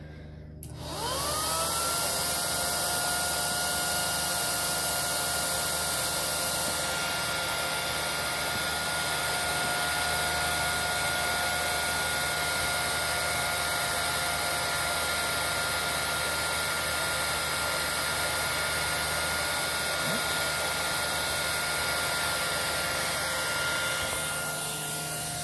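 A Henry HVR200-11 vacuum cleaner starts up and runs steadily, its motor winding up to a constant loud whine and airy roar that holds unchanged for the length of the recording, with no voices.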